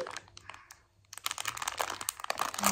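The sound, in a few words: child playing with toy in crinkling plastic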